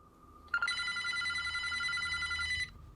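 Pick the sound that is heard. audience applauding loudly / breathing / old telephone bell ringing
old telephone bell ringing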